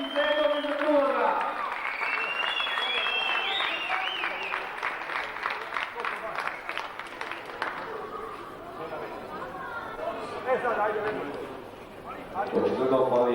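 Audience applause at an awards ceremony in Sombor for boxing legend Slobodan Kačar, steady crowd clapping filling the hall with chatter and voices mixed in throughout.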